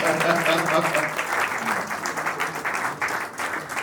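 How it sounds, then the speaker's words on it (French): Audience at a film premiere applauds the director, steady clapping that swells and then fluctuates, with some voices audible underneath. "On peut l'applaudir, on peut l'applaudir."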